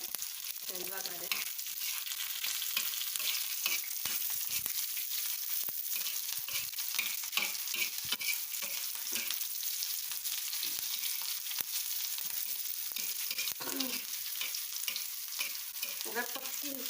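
Dal frying in oil with ground cumin gives a continuous hissing sizzle, nearby and fairly quiet, flecked with rapid crackles and intermittent stirring sounds.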